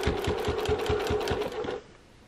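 A sewing machine stitches the seam of a zippered pouch at a moderate, even pace, its rapid regular clatter steady and close, then stopping near the end to leave quiet room tone.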